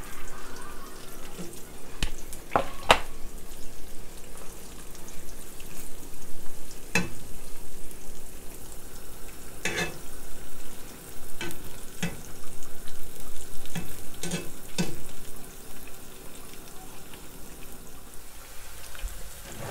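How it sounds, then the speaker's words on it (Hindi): Whitebait fish deep frying in oil bubble and crackle in a loud, continuous hiss, with sharp pops and clatters scattered throughout and a brief dip near the end. "फ़िश जो हमारी अच्छी तरह से फ्राई हो चुकी है"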